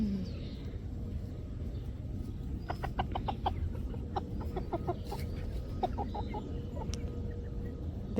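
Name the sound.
chickens clucking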